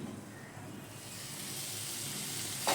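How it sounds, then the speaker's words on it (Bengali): Flat beans fry in a covered pan with a steady, even sizzle that holds throughout and swells slightly near the end. "এবারে আমি ঢেকে রেখে পাঁচ মিনিটের জন্য শিমগুলোকে ভেজে নিচ্ছি"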